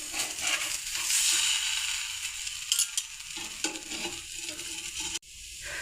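Corn flour roti, makki ki roti, brushed with ghee cooks on a hot griddle after being flipped, giving a soft, continuous sizzle with faint scraping and handling sounds and a brief knock near the end.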